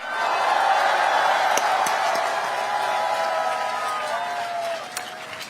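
A crowd at an outdoor political rally in Ulsan claps and cheers in a sustained roar that holds steady for several seconds before tapering slightly, with scattered whoops within it.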